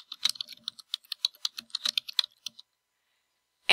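Quick bursts of keystrokes on a computer keyboard, close and crisp, as a line of text is typed, then a pause and one last sharp key press.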